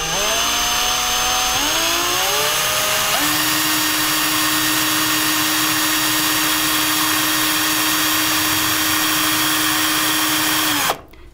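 A power drill spins steadily while coiling wire, a loud continuous whine that shifts pitch early, settles into a steady tone, then cuts off abruptly near the end.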